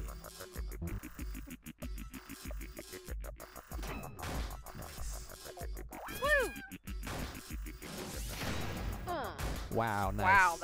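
A cute cat meows in the video game LISA, several rising and falling cries standing out over busy game music and effects, with people talking through much of it.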